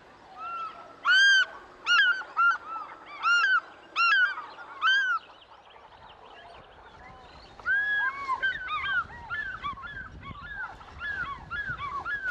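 African fish eagle in Africa calling with loud, clear yelping cries in a rapid series, then a brief lull before a second, more distant-sounding series over a rustling outdoor background.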